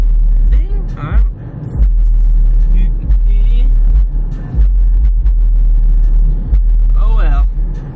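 A 2009 Jeep Patriot on the move gives a steady low engine and road rumble throughout, with a loud sound system and voices playing over it inside the cabin.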